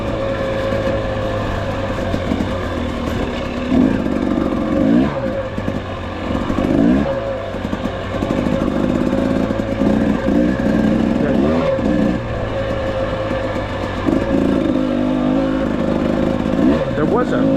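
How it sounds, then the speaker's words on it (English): A 300 two-stroke dirt bike engine revs and bogs on tight mountain trails, loud and close, with rising and falling throttle blips over a constant buzz and wind, while riders talk underneath. "Who likes tight trails on a 300 two-stroke?"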